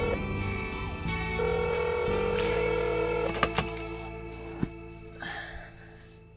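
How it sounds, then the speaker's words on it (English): A telephone rings with a warbling electronic tone layered over sustained, distorted music-like sound effects, with a few sharp clicks and knocks toward the end, fairly quiet and with no talk. "pick up the phone"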